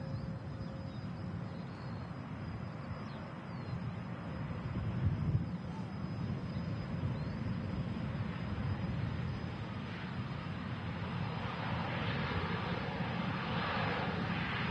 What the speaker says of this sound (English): TAP Express, coming in from Lisbon